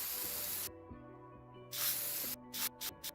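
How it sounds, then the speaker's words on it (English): Spray paint hisses from The Sims 4 build tool, a long hiss, then a pause, then another long burst and a few short spurts, heard over a soft game music bed. "It might be because I like hearing the spray paint sound"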